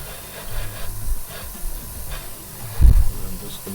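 Paint is sprayed in light coats onto the underside of a 1/32 Hasegawa Spitfire Mk 5b model, a soft steady hiss close by with one brief louder burst.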